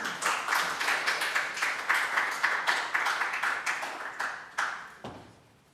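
A seated audience at a Korean pharmaceutical health forum claps to welcome a lawyer to the podium, with a brisk, moderate round of distinct hand claps that thins out and ends in a few last claps.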